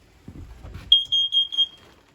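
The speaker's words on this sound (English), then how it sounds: "Carbon monoxide alarm is straight up from there, so you can see that works." A carbon monoxide alarm in a 2014 Wildwood 312 QBUD travel trailer is tested, giving a shrill, piercing beep that holds and then pulses a few times. Soft handling noises come just before it.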